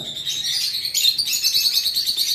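A double red factor yellow-sided conure, an adult caged bird for sale, chirps in a rapid run of sharp, high, close tweets that continue steadily without talk.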